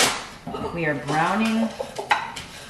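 Arborio rice browns in a pan over a chicken stock base. A spoon clinks and scrapes against the cookware in short bursts, and a brief tonal, voice-like sound runs underneath.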